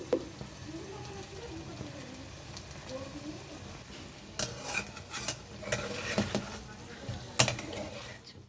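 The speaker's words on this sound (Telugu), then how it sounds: "గరిటి పెట్టి మనం తిప్పేటప్పుడు కూడా చాలా జాగ్రత్తగా తిప్పాలి" A ladle gently stirs a simmering fish curry of small mud-dwelling fish, soft scrapes and light sizzling growing in the second half after someone talks over the bubbling.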